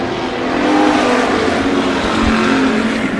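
Race cars roar side by side at Bakersfield Speedway, a loud steady engine drone that swells and eases slightly over three seconds, heard from trackside with no voice over it.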